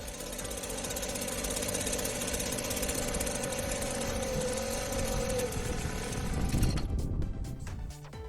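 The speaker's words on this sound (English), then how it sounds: "Start the engine and run it until it stops." An MD300 small engine, being winterized, runs steadily with a buzzing, knocking drone until its fuel runs out, then sputters and cuts out near the end, leaving quieter clatter.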